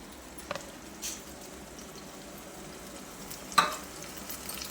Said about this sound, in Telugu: దానికి వేసుకుంటాను, ఏగుతుంది అన్నమాట మసాలా.